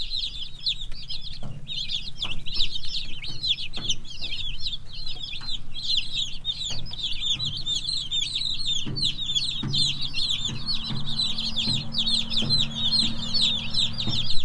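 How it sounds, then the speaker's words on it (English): A brooder full of young Cornish cross meat chicks peeps and chirps continuously, a dense high chorus close up with occasional soft bumps and scuffs underneath. "We got some new Cornish cross meat chickens"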